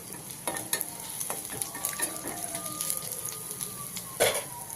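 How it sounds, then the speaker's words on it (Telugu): Small peeled ginger pieces fry in oil in a pan, a soft steady sizzle with occasional scraping stirs and clinks close by, no voices. "మూకుడులో కొంచెం ఆయిల్ వేసుకుని చెక్కు తీసిన 3 అంగుళాల అల్లం ముక్కల్ని చిన్న చిన్న ముక్కలుగా కట్ చేసుకుని ఆయిల్లో వేసి"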